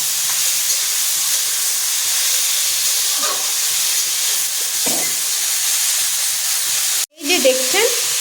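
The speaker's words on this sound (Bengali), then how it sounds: "এই যে দেখছেন আলু আর পেঁয়াজটা ভাজা হচ্ছে" Potatoes and onions fry in a pan with a loud, constant sizzle and a few soft stirring scrapes, then a sharp knock near the end, close up with no voices.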